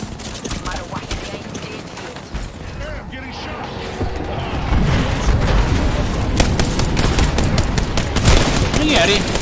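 Gunfire in the Apex Legends battle royale game, with dense bursts and rapid automatic shots, loud throughout, mixed with game effects and occasional speech.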